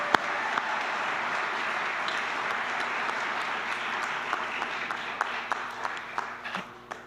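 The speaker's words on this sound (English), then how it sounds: "So give yourselves a hand of applause" An audience at the Invent Idaho state finals awards applauds, a dense, steady wash of clapping that holds for several seconds before thinning into a few louder scattered claps near the end.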